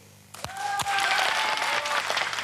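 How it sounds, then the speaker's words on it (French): A live television studio audience breaks into applause, the clapping swelling quickly after a couple of sharp claps and holding as a dense, loud, steady roar, with a few voices calling out in the crowd. "On applaudit?"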